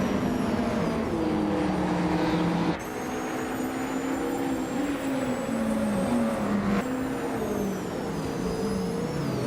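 Racing engines of a 1996 Toyota Sard MC8 and rival cars in a racing video game, a loud sustained layered drone with pitch rising and shifting as gears change, continuous without talk.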